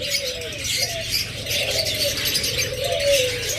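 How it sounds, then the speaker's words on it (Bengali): Pet Forpus parrotlets give soft, rising chirps and short whistled calls over a steady bed of background chatter and noise, moderately close and continuous throughout. "পোরপাস পাখি হলো সবথেকে শান্ত পাখি"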